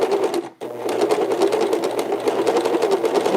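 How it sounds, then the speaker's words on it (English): A sewing machine stitches along a seam on a fabric face mask, its motor humming in a steady rapid run that stops briefly near the start, then resumes continuously, close and fairly loud with no talking. "I can actually sew it right on the line where I see the stitching was"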